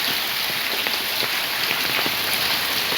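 Wind-driven rain falls in Jaffna, a dense, steady hiss of drops hitting surfaces, loud and unbroken throughout.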